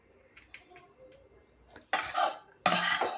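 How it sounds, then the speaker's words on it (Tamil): Soft clinks of a utensil against a pan, followed by two louder scraping sweeps as ponnanganni keerai poriyal is pushed off onto a plate. "வேறு ஒரு தட்டில் நான் வந்து மாற்றிக்கிறேன்"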